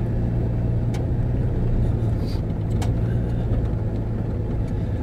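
A truck drives over a very rough, potholed road, heard from inside the cab as a loud, continuous low engine and road rumble with a few faint knocks and rattles.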